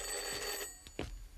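A telephone rings at night in a dark house, with a loud sustained electronic bell tone for over half a second, followed by a couple of brief knocks and thumps nearby.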